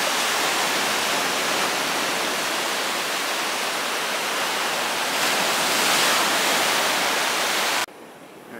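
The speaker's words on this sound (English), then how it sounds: "noticing how impressive some of these waves are" Continuous loud roar of ocean waves crashing near Cherry Grove Pier, North Myrtle Beach, South Carolina, a steady broadband wash that swells slightly before dropping off abruptly near the end.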